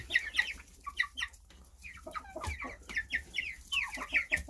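Young silkie chickens cluck and peep steadily while feeding on pasta and banana in an outdoor run, a close flock of soft repeated calls with no talking.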